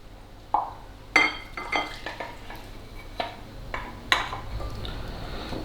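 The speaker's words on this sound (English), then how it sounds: "we're going to tip it into the flour and I'm going to mix it all together" Yeast and warm water get stirred into flour in a bowl in a home kitchen, with scattered clinks and scrapes of a utensil against the bowl between quieter mixing strokes.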